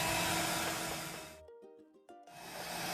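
A hair dryer blows steadily to dry Mod Podge on a patriotic home décor craft, a loud broadband whoosh that cuts out for about a second in the middle and then starts up again.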